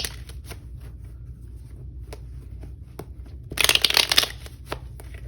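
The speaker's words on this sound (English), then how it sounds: "So I'm going to give tarot a quick shuffle." A deck of tarot cards is shuffled by hand, light ticking taps leading into a brief, brighter riffling burst near the end, close and fairly quiet.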